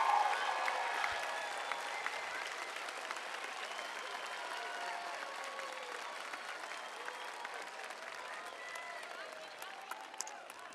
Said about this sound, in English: Let's give them a thunderous round of applause and appreciation.